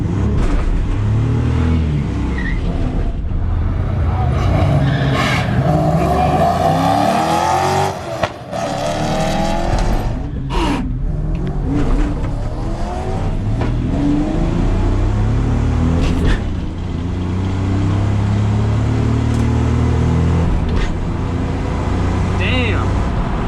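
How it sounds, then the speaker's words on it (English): A car engine on a drag strip revs hard with rising and falling roars, tire noise mixed in, then misses a gear and cuts out. Voices talk over much of the loud, close engine sound. "I fell out of gear as soon as I freaking pressed the gas."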